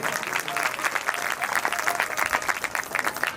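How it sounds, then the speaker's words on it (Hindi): A crowd at a Bhagwat Katha religious gathering claps steadily and briskly, a dense wash of applause that holds at an even level throughout. "ताली बजा दो, ताली।"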